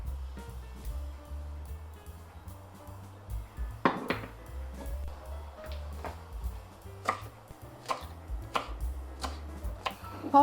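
Fresh dill being finely chopped with a knife on a board, a run of crisp, irregular chopping knocks, some louder strikes standing out over a low background hum.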